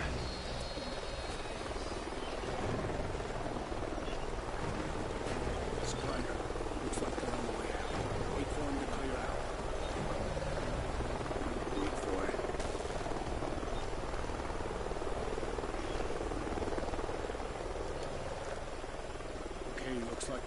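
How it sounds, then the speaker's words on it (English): A helicopter in the video game Call of Duty Ghosts drones steadily throughout, a continuous rotor rumble passing overhead in a canyon setting, with game voices talking over it. "Sounds like a chopper's up ahead of us."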